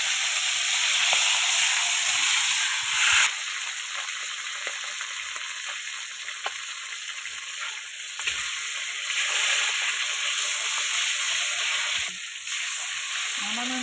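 Oil sizzling loudly in a pan for fish frying, a steady close hiss throughout with occasional faint utensil clicks and small shifts in intensity.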